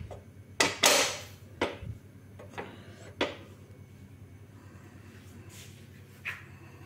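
Metal spatula scraping and knocking in a kadai on a gas stove while dal is cooked, a few sharp irregular clanks and scrapes over a steady low hum of the flame.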